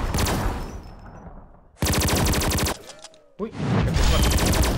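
The Magic Universe gun in the game XSHOT fires loud, rapid automatic bursts: a long opening volley, then two more separated by short pauses. A brief exclamation is heard between them.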